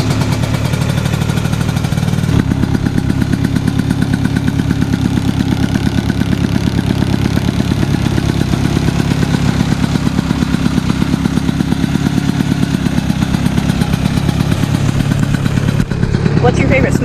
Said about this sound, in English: It's a 1978 Skidoo Elan 250 single cylinder bogey wheel suspension, and a lot of you guys love to hear them run